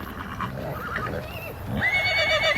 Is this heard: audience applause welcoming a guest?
no